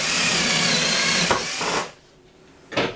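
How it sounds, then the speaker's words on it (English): Power drill boring downward, a steady loud whirring run that cuts off partway through, leaving near-quiet before a short burst of noise at the end. "You get your drill and you drill down"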